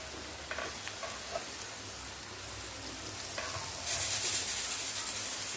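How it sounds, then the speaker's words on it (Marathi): Spinach sautés in hot oil in a home kitchen, giving a soft, steady sizzle with occasional stirring clinks that swells louder near the end. "आता याच्यामध्ये पालक ॲड करूया आणि पालक छान परतून घेऊया"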